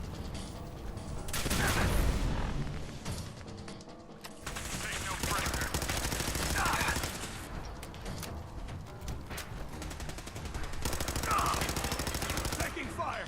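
Rapid automatic gunfire bursts rattle in three loud sustained volleys during a firefight in the video game Fallout 4, with short lulls between them.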